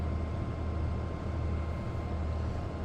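Reading and Northern RDC Budd railcars idle in a small town in the early morning, a steady low diesel rumble with a constant hum heard from some distance, unbroken and with no talking.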